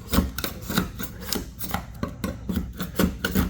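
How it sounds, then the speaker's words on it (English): A putty knife scrapes old material off the body of a box van, giving repeated rasping strokes in an irregular rhythm, close and fairly loud, with no talking. "I might scrape at this for like an hour. Because if I can get most of it off with the putty knife"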